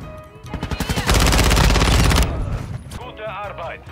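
A video game 9mm weapon fires a rapid burst of loud, close shots lasting about a second, followed by fainter noises, with a voice talking around it.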